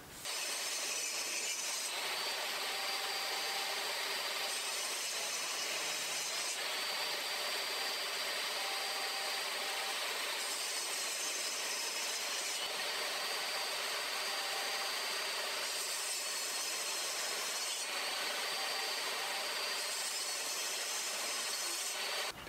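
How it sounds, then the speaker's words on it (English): A table saw making a shallow cut into reclaimed birch and walnut, a loud, steady whine of blade in wood that rises and falls in repeating passes as the board is fed through, with no talking. "When I run this through the table saw, I'm going to start with a shallow cut and cut on both sides."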